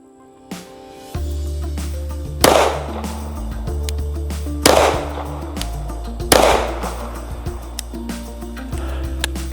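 Three pistol shots ring out at an outdoor range, each a sharp loud crack spaced about two seconds apart, over a steady low rumble of background noise.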